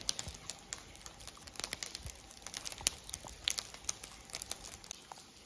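Hailstones strike a cardboard sheet outdoors in rural Gansu, a faint scatter of sharp, irregular ticks and patters with no speech.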